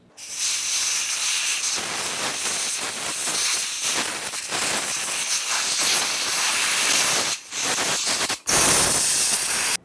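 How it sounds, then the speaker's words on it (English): Compressed air blasts across the top of a fuel tank on a 2004–2015 Nissan Titan, a loud, close, continuous hiss in long bursts with brief gaps near the end. "Now let's use some compressed air and gently blow air in the area."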